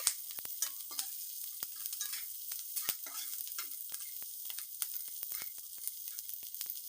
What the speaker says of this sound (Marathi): आता ही मिरची पण चांगली परतावून घ्यायची आहे